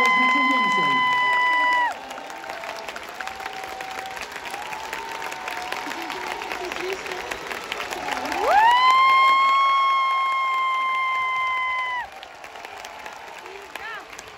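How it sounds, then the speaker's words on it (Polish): A tennis crowd applauds and cheers for Iga Świątek, a broad wash of clapping mixed with loud public-address tones and shouting voices that swell midway and ease off near the end. "wielkie brawa, Iga Świątek"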